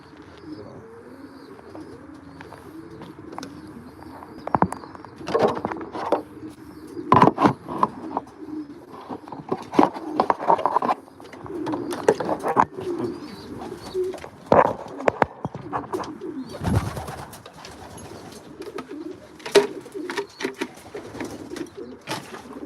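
Pigeons coo repeatedly inside a loft housing an old bird racing team, the soft throaty calls overlapping in uneven bursts with occasional chirps and wing flutters, fairly close and steady throughout.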